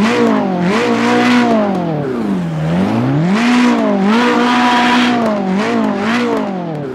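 Ferrari race car engine in Assetto Corsa Competizione revving up and down in repeated loud, close sweeps, the pitch rising and falling in waves with a dip in the middle, heard alone.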